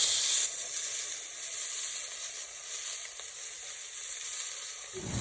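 A prime rib roast sears in a hot cast iron pan, giving a steady, close, loud sizzle with a bright hiss throughout and no talking.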